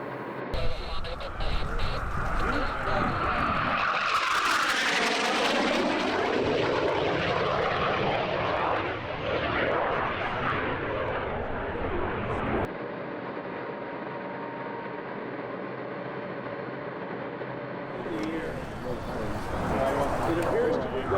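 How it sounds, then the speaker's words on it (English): Jet aircraft, an F-5 Tiger II at the Oshkosh EAA AirVenture airshow, roars past loudly with a rising then falling sweep, trailing into a sustained distant rumble, with a voice talking over it. "and here's one of the more unique ones, F5 Tiger II."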